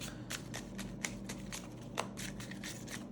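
Tarot cards shuffled and drawn by hand, a run of soft papery riffles and slides with a couple of sharper taps, close and fairly quiet, no voice over them.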